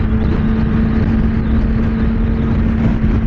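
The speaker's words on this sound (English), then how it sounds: "once you start revving it out, it gets an induction sound that is very cool" A steady Kawasaki Ninja ZX-6R motorcycle engine drone holding a constant pitch, loud and close, with a continuous mechanical hum and no speech.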